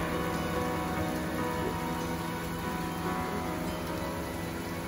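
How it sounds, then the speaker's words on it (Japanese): A sudden passing rain shower during a summer trip in Hokkaido, Japan: steady, dense rain patters on surfaces for the whole stretch, even and continuous, with no voices. "突然の通り雨、"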